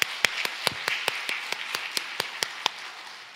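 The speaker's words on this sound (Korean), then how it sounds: "다시 한번 박수 보내드리겠습니다." About a dozen evenly spaced sharp claps ring out in a quiet church sanctuary, a slow rhythmic clapping with a faint roomy wash between beats, moderately distant and fading slightly toward the end.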